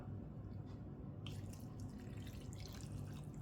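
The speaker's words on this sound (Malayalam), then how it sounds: "ഇതിലേക്ക് നമുക്ക് കുറച്ച് പാലൊഴിച്ച് കൊടുക്കാം" Milk is poured into a bowl of oats, a faint soft liquid trickle and splash starting partway through, quiet and close with no talking.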